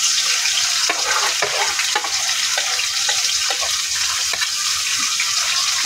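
Onion, ginger-garlic paste, bay leaf, cardamom and cinnamon fry in hot oil with a steady, loud sizzle, broken by occasional stirring scrapes and clicks, with no talking.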